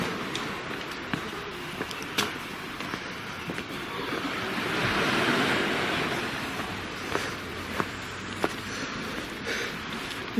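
Sea at Watchet on a wet morning after a high tide, a broad wash of surf rising and falling at a distance, swelling midway, with wind rumble and scattered ticks and knocks nearby.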